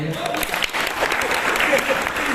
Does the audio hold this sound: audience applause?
yes